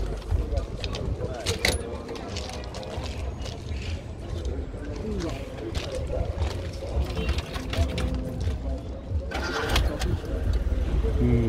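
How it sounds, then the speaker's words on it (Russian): A 2001 Lada with a 1.6-litre carburetted engine starting and idling at an outdoor car market, with keys jangling, the engine running under continuous nearby talk and market bustle. "Машинаны жүргүзүп берди азыр."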